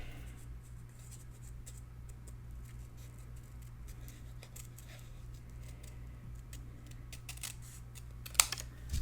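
Faint, soft snips of scissors trimming paper for a Christmas patchwork memory book, scattered light cuts over a low steady hum, with one sharper crinkle near the end.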